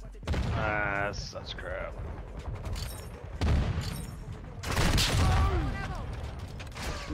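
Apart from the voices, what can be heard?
marksman rifle gunfire in a video game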